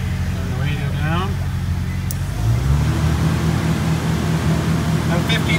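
A Jeep YJ engine holds a steady idle around 1500 RPM on a hand throttle, a constant low hum after a brief shift in pitch, with a person speaking over it early on.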